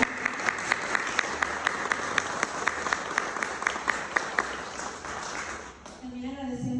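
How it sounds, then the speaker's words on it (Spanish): An audience claps at a book presentation with a steady, rhythmic beat of claps lasting several seconds, then fading as a voice starts speaking at the end. "Un aplauso."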